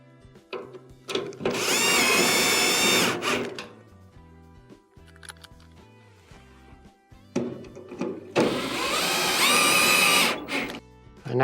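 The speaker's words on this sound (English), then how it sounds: "Install your two screws." A power screwdriver drives two screws into the top panel of a Whirlpool dryer: two loud, whirring bursts about two seconds each, separated by a quiet pause with faint handling noise.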